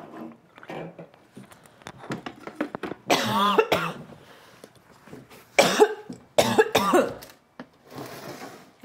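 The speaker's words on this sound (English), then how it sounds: "No, just coughing." Several harsh coughs and throat clearing in clustered bursts, close and loud, separated by quieter shuffling and breathing.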